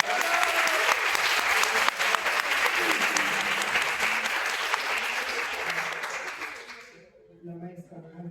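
Audience at an academic panel on social perceptions of autism applauds loudly and steadily for about seven seconds, the clapping dense and sustained before it fades out, leaving a brief quieter tail.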